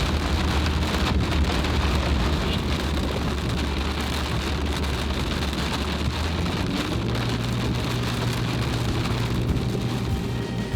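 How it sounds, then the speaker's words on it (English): Heavy rain pours down in a steady, loud, unbroken roar while the travellers drive during a storm, with a low vehicle rumble underneath. "it is downpouring now"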